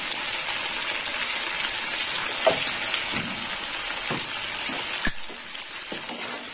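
Chili powder and spices sizzle steadily in hot oil in a pan, a continuous close frying hiss with occasional soft stirring scrapes and clicks, no talking.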